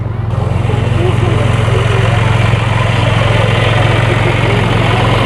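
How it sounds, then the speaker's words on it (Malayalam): A tractor giving rides at a pumpkin farm in the UK idles nearby with a loud, steady low diesel rumble and rhythmic throb, holding constant throughout. "ഇവിടെ ഒരു ട്രാക്ടർ റൈഡുണ്ട് ഈ ട്രാക്ടറിനകത്ത് കയറി നമുക്ക് വരാം"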